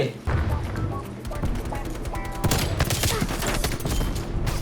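Rapid, loud gunfire from a Swiss K31 rifle in the video game Call of Duty: Black Ops Cold War, with bursts of shots and booms running throughout amid busy battle noise and someone talking.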